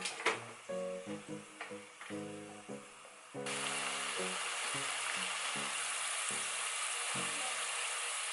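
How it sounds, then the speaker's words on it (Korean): Garlic and pepperoncino hit hot olive oil for gambas al ajillo: a few seconds of knocking pan and utensil clatter, then a loud, steady crackling sizzle that continues to the end. "올리브유가 달궈졌으면 마늘을 넣어주세요"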